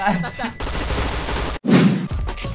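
Bursts of rapid gunfire in the online shooter Point Blank play in two loud close volleys split by a brief silence, with a player's voice talking between the shots.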